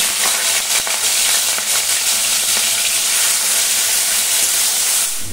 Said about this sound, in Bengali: तेलटा खूब भालो गरम हो गेले दिए देबो चिंगड़ी माछ